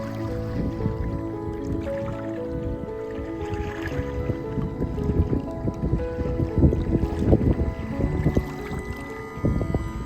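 A wooden 1938 Chris-Craft racer RC model boat running on water, its small motor humming steadily with splashing and lapping water throughout, fairly close.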